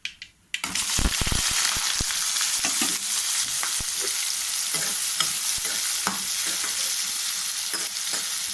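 Finely chopped onions tipped into hot oil with spluttered mustard seeds: a sudden loud burst of sizzling that settles into steady close frying, punctuated by spoon scrapes and stirring knocks, no voices.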